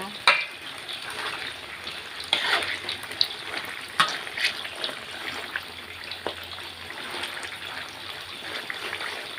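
Pork belly frying in oil in a pan, a steady close sizzle with crackling pops and occasional stirring scrapes running throughout, with no one talking.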